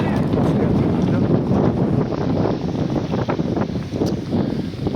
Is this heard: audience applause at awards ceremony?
no